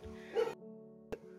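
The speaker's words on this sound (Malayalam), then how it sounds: "മയിലിനെ കണ്ടാണ് പട്ടി കൊരുക്കുന്നത്." A dog near a home in Kerala barks at a peacock, giving a couple of short, moderately faint barks with a low hum in the background.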